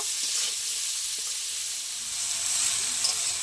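Onions frying in oil with whole garam masala and a dried chilli for egg biryani, giving a steady, fairly loud hiss of sizzling throughout with faint occasional stirring.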